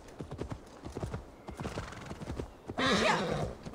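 Horse galloping with rapid hoofbeat clip-clops in the Assassin's Creed Valhalla video game, ending in a loud, close neigh near the close, a faint voice underneath.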